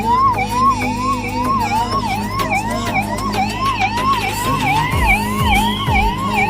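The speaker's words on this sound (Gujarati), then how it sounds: "તમે જોઈ શકો છો સાયરન વાગી ગઈ છે" At the 2022 opening of Atal Bridge in Ahmedabad, a loud siren wails continuously in a fast rising-and-falling pattern, with low engine rumbles joining near the end.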